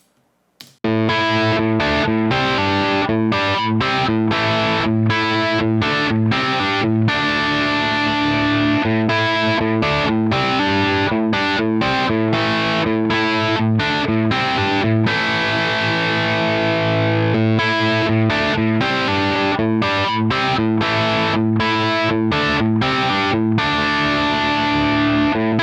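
Heavily distorted electric guitar through a Soldano amp model on a Line 6 Helix and a Neural DSP plugin, playing a dense, loud riff of chugging chords and short stops that runs continuously for the whole passage.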